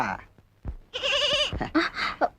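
A goat bleats loudly at close range in a long wavering call, followed by shorter broken cries, with faint talk and rustling before it.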